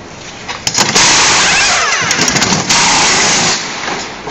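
Pneumatic wheel guns rattle during a Ferrari pit stop tyre change practice, loud and close, in a dense, sustained burst of high-pitched mechanical whirring with short sharp stutters, alone without talk.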